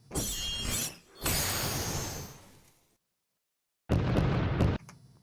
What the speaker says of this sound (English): we don't want explosion sounds